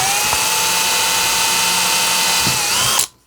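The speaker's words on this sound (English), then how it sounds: "So we want to be drilling on the back of the reel here." A power drill bores into the back of a metal fishing reel with a loud, steady high-pitched motor whine that runs for about three seconds before cutting off abruptly.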